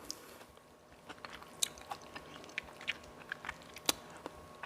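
Biting and chewing baked cabbage with onion, close and quiet, with soft wet crunches and squishy mastication clicks spread unevenly across the clip, with no talk.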